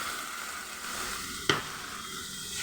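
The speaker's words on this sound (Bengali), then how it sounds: "আমি অল্প জল দিয়ে দিচ্ছি এর মধ্যে" Water poured into a hot pan of spices, a steady loud sizzle punctuated by one sharp hit midway, then a brief fizzing burst that settles back into continuous hissing, close and without talk.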